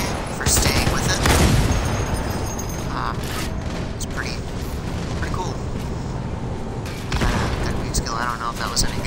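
Gunfire and heavy booms in Halo 2 Anniversary multiplayer, including sniper rifle shots, a dense loud stretch of firing and explosions with a player talking over the action.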